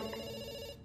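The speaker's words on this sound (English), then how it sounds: "we pick up the phone because it's ringing" A telephone rings with a steady, bright electronic trill that holds for under a second before cutting off, loud and close with no voices.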